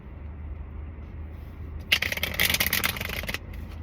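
Tarot cards shuffled by hand, a burst of dense crisp riffling and slapping lasting about a second and a half after a quiet stretch of room hum, fairly close and with no talk over it.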